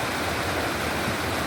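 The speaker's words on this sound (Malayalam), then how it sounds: "പാൽനുര പൊഴിച്ചുകൊണ്ട് ഒഴുകുന്ന പുഴയാണിത്" A clear river flows over rocks, churning into white foam. The rushing roar is steady, close and full, and no voices are heard.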